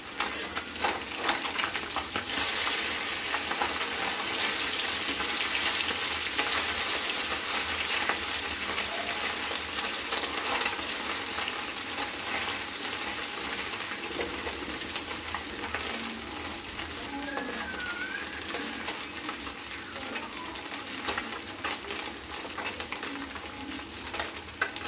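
Chela fish frying in a pan after being flipped, a soft continuous sizzle and bubbling oil at low level, steady throughout with faint background noise and no talk.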